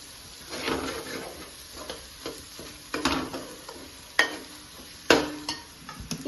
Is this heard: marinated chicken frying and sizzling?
yes